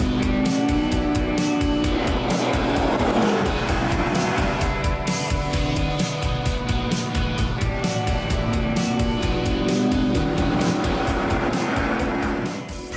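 McLaren supercar launching hard from 4,000 RPM on a slippery runway, a loud continuous engine roar with shifting pitch that stays close and dense throughout, with no talk over it.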